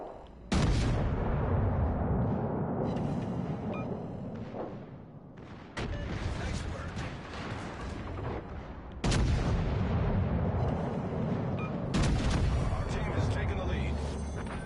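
Warship turret guns booming in World of Warships aboard the battleship Agincourt, four heavy salvos spaced a few seconds apart, each followed by a long rumbling roar that fills the gaps.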